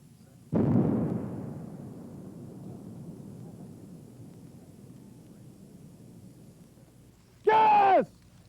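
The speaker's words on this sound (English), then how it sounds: "The rocket drags the line charge over the minefield and it is detonated once it strikes the ground." Mine-clearing rocket line charge detonating over a desert minefield during the 1991 Gulf War ground assault, a single heavy blast that rumbles and fades over several seconds, followed by a short sharp burst of sound.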